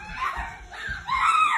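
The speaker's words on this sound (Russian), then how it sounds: "Вы слышите этот крик?" A person screams in a prank after being smeared with Nutella. The rising, wavering shrieks come in short bursts over faint background noise, with no clear talk.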